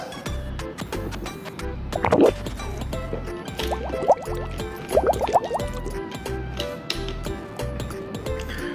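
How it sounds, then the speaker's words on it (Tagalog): Water being gargled before drinking: a few short bubbling, liquid bursts around the middle, set over steady background music with rhythmic low beats. "minumog muna niya ang tubig bago ito inumin"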